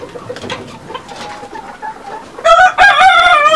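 A Ghati Fuile rooster, a pure local Nepali breed kept on a farm, crows loudly and nearby near the end, following softer clucking and bird chatter among other chickens.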